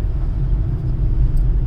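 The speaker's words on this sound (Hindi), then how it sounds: "अभी तो हम गाड़ी में जा रहे हैं।" Inside a moving car, a loud, steady low road rumble and engine drone fills the cabin with no voices.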